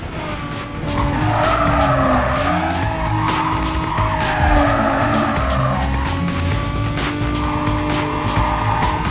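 A Toyota Supra in Need for Speed: Carbon squeals its tires in a long, loud skid, the pitch sliding and wavering over a roaring engine, with no talk.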